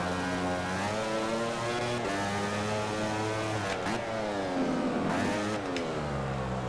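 A Yamaha racing motorcycle in the MotoGP 15 video game at Jerez revs hard, its engine pitch climbing and dropping through gear changes in a loud, continuous whine with no voices over it.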